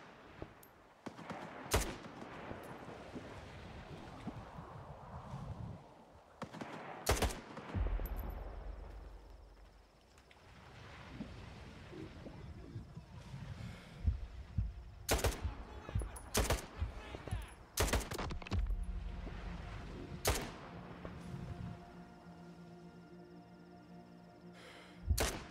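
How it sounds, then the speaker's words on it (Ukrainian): Gunfire between bandits in the video game S.T.A.L.K.E.R. 2: sharp, loud shots crack out irregularly across the scene, some in quick clusters, separated by quieter stretches of ambient game sound. "Хай постріляють одне в одного."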